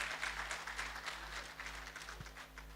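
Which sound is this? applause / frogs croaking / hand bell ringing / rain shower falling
applause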